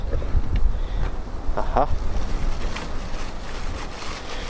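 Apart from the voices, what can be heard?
strong wind blowing on microphone outdoors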